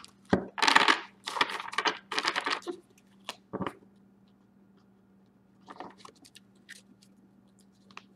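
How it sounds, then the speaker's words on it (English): Tarot cards are shuffled by hand in several crisp, riffling bursts up close, then a quieter pause before softer shuffling and light card taps follow. "Here's the shuffle for sublimation"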